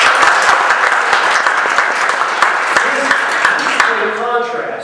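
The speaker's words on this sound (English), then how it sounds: "I think we owe them a round of applause for their service" Loud, sustained applause from an audience at a talk on religion and government, honoring military veterans; dense clapping continues before tapering near the end as a voice begins.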